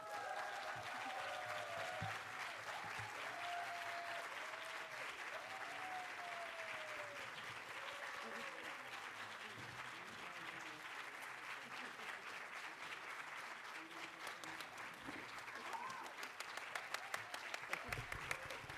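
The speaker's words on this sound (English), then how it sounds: "please give like a very strong ovation to the Willis" A large audience at a photography congress gives a strong, sustained ovation, dense clapping holding steady for nearly twenty seconds and swelling slightly near the end, with a voice speaking faintly underneath.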